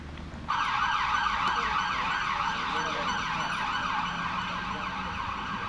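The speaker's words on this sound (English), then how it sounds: "the background noise is a fire engine or the police somewhere" A fire engine or police siren wails somewhere beyond a Guildford cricket ground. It is steady and sustained, set back at a moderate distance, and carries on without a break over faint outdoor ambience.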